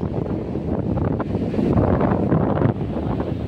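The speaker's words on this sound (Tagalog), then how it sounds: "Lakas ng hangin." Heavy wind roars against the microphone in sustained, loud gusts on the coast at San Fabian, Pangasinan, Philippines, with a faint wash of surf underneath and no talking.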